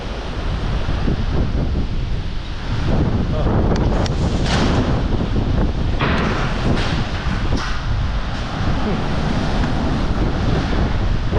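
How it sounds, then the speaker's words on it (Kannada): Strong, steady wind roars and buffets the microphone without letup on the seashore at Surathkal during a rainstorm, with surf washing beneath it throughout. "ಗಾಳಿ ತುಂಬ ಇಲ್ಲಿ ಜಾಸ್ತಿ"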